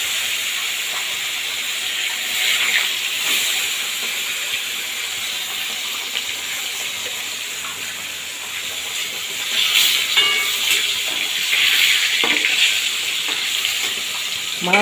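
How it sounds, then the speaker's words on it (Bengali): Fish frying one by one in hot oil, making a steady loud hiss and sizzle with occasional sharper crackles and spatters. "এদিকে তেল দেখুন খুব ভালোভাবে গরম হয়ে গেছে একে একে মাছগুলো আমি ভেজে নেব"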